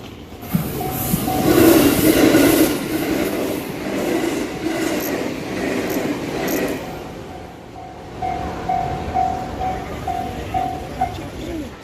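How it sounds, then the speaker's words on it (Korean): Keihan Railway train passing a level crossing near Fushimi Inari station, a loud rushing rumble up close that gradually fades, with birds and pigeons audible around it and a steady crossing tone in the background. "여기는 케이안전철 건널목이네요"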